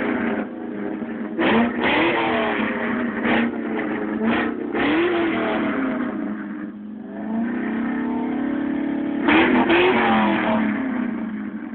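A 2011 Ford Mustang GT with Corsa exhaust, Bassani cats and ceramic headers revs repeatedly outdoors in snow, sharp throttle blips rising and falling over a deep burbling idle, loud and close.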